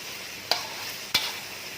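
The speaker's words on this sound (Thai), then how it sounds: "เคี่ยวหมูไปแบบนี้" Pork simmering in a pan for a sweet-salty Thai braised pork dish, a soft continuous bubbling hiss broken by two sharp utensil clicks against the pan.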